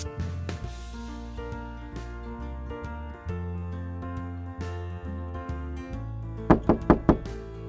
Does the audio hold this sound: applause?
no